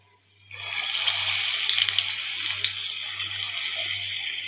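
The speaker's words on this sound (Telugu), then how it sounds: "ఇది చూడండి, పునుగులు వేస్తున్నాను." Punugulu batter fritters drop into hot frying oil and set off a sudden, steady sizzle with a continuous crackling hiss and small pops, under a low background hum.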